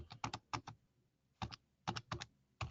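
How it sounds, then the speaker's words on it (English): Fingers type on a computer keyboard in short clustered bursts of crisp, close key clicks separated by brief pauses, with no voices. "while I'm typing this in"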